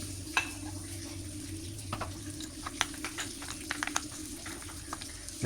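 A spoon stirs a spice mixture in a bowl for a Kerala-style sardine curry, with scattered light clinks and scrapes over a low background hum.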